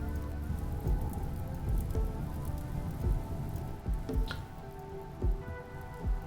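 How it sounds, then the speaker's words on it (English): Steady rain falling in RimWorld, a soft continuous patter with scattered drip-like taps, moderately loud and heard alone without talk. "Alright, it's finally raining."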